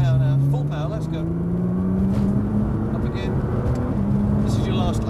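A Nissan GT-R at full power on a track, its engine droning loud and steady with the pitch climbing gradually as it accelerates, while a voice talks over it throughout.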